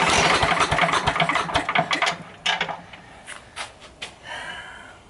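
A Sears Craftsman 9HP wood chipper/spreader engine sputters and chugs in uneven bursts near full throttle, struggling to catch and fading into irregular coughs and knocks.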